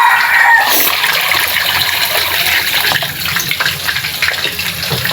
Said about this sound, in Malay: Ni Zati masukkan air